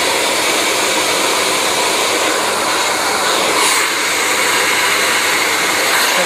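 A hair dryer on its cold setting blows in a loud, steady, close rush of air during a blow-dry with a round brush, holding unbroken throughout with no talking.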